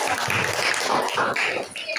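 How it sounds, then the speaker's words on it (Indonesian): A classroom of students gives a brief burst of clapping during a biology lesson, an uneven patter of hands that swells and fades over a couple of seconds with some voices mixed in. "Tepuk tangan"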